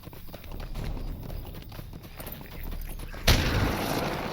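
A horse gallops in the online game The Lord of the Rings Online, with rapid hoofbeats under game ambience, then a sudden loud impact near the end.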